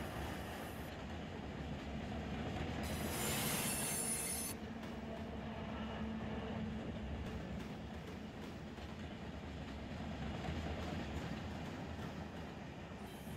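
Freight train cars squeal in a Run8 Train Simulator rail yard, with a loud, broad screech peaking early over a steady rolling rumble that continues throughout.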